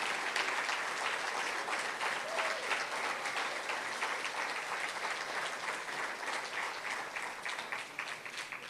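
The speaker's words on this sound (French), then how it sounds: "on va l'applaudir très, très fort" Sustained applause from an audience at a Fête nationale 2013 launch conference in St-Lin-Laurentides, honoring the spokesperson; dense, even clapping heard from a distance, fairly faint but continuous throughout.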